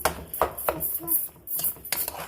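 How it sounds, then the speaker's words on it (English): Ground turkey stirred and browning in a pot for chili, with irregular scraping and clanking of a utensil against the pot at a steady, close level. "I'm just going to stir around and begin to brown my meat."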